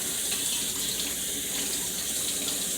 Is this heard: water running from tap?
yes